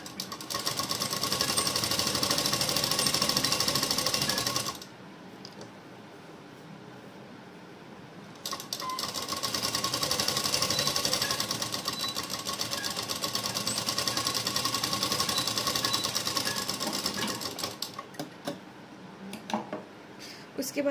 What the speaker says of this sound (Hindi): तो यहाँ पे मैं सिलाई लगा लेती हूँ।